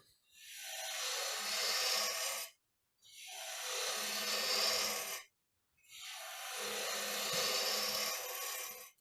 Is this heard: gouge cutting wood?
yes